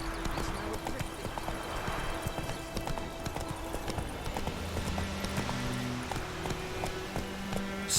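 In Witcher 3, a horse's hooves clip-clop in a quick, steady galloping rhythm on a road, close and continuous, with a low musical drone in the background.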